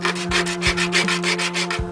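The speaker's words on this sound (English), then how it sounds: "Gonna sand the bottom." A typewriter key top being sanded on its bottom makes quick repeated rubbing strokes, about eight even back-and-forth scrapes in under two seconds, close and clear with no talk.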